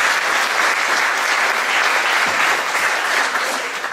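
Sustained audience applause at a 2015 village festival: a steady, dense wash of clapping from a crowd, fairly loud and even throughout with no voices standing out.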